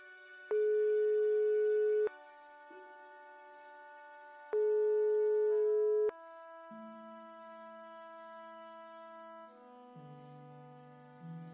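Repeated busy-signal tones from an unanswered phone call in the game Broken Sword 5, the steady beeps pausing and returning over a soft tonal music background, with no talking.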